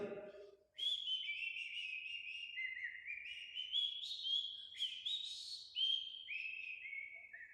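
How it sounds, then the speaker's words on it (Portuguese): A person whistles a hymn-like tune alone, a clear melodic line of sliding, held notes rising and falling, close and moderately loud, after a brief burst of voice at the start. "parece até que ele está assobiando um hino"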